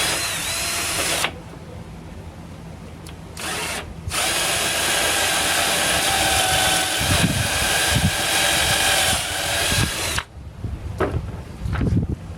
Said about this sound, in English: next thing is you just have to drill the holes in